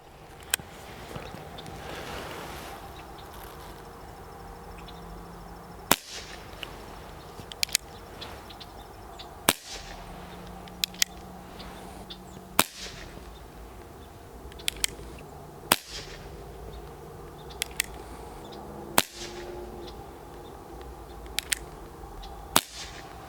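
BB revolver, a Schofield-style replica, firing at steel targets roughly 125 yards away outdoors. Sharp, thin cracks come one at a time at irregular intervals over a steady background hiss.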